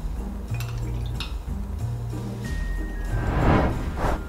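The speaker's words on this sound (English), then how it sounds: "Next, we're gonna pour 2 ounces of our cold brew concentrate." Cold brew coffee concentrate is poured into a glass, with liquid splashing and swelling near the end alongside low hums and faint clinks of glassware.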